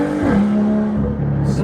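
A BMW M2 with an N55 turbocharged straight-six and an upgraded intercooler accelerates hard, its engine note climbing in pitch and holding a steady drone from inside the cabin before easing off near the end.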